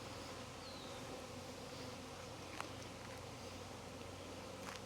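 A swarm of honey bees mills around the site of their former hive, producing a continuous dense buzzing drone with occasional individual bees passing closer, fairly even and moderately faint throughout.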